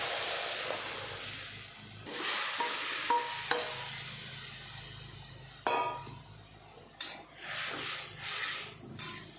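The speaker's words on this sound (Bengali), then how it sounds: "এখন তরকারিটা ঢেলে দেব।" Curry being poured into hot oil with cumin, black mustard seeds and dried chillies for a tamarind sour dish with taro and fish, giving bursts of loud hissing sizzle and scraping stirs with brief clatters of a pan.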